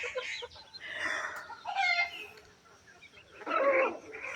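Chickens cluck in short bursts at a farmyard, several close clucking calls rising and falling over faint background noise.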